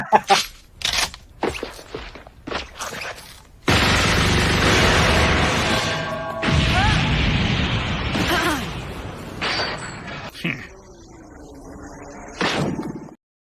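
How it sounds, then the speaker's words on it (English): Several sharp gunshot-like bangs ring out, followed by a long roaring burst and fading rumble, loud and close. "Little gunshots in the morning never hurt anyone"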